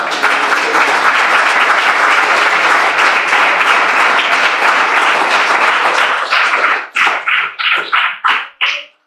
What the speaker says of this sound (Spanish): Denles ofrenda de palmas a Dios en esta mañana